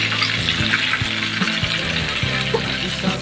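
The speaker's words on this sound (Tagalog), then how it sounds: "Ito po yung tamang tama po yung pagkakaprito sa ating tortang talong hindi po siya maitim" An eggplant omelette (tortang talong) fries in a pan with a steady, close sizzle and crackle of hot oil that keeps going without a break.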